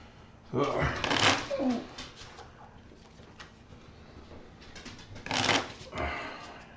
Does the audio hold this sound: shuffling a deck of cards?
yes